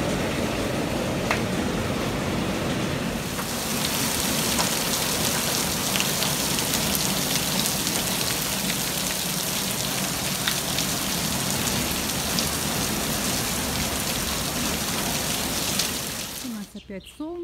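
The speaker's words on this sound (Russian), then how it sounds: "Льет, как из ведра." Heavy rain pours down in a dense, even hiss of drops striking surfaces, continuous and close for most of the stretch, then breaking off near the end with a few brief sharp knocks.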